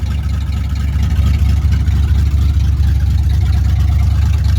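A cheap small block Chevy V8 runs steadily at a low, rumbling idle, loud and close, with a constant dense low-end drone and no voices over it while reverse gear is tried.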